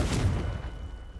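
Confringo fire blast spell cast in the Hogwarts Legacy video game, a single loud, booming burst with a deep low rumble that decays over about a second.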